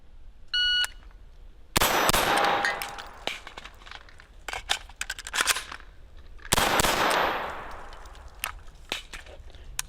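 Inter Ordnance M215 9mm AR-style pistol fired at a timed drill, opening with a timer beep, then two long rapid strings of loud close shots separated by scattered single shots and a pause for a reload.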